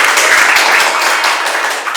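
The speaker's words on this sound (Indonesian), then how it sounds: "Oke, tepuk tangan." A burst of applause, many hands clapping together in a dense, steady patter from a nearby group.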